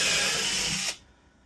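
A cordless power drill drives a mounting screw into drywall during a home battery inverter installation, with a loud steady whirring close by that stops abruptly and leaves near silence.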